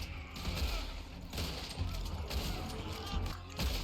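Rapid gunfire in Red Dead Redemption 2, with repeated sharp shots and clattering bursts packed densely together in a busy, loud fight.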